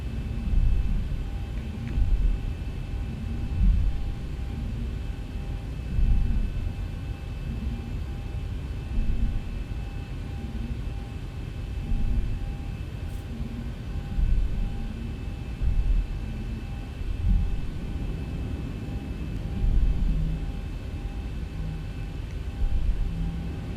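Simulated Boeing 737-800 jet engines at takeoff power in X-Plane 11, a steady, loud low roar with a rumbling, rhythmically pulsing swell, constant throughout with no talk.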